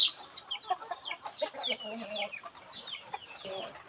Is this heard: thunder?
no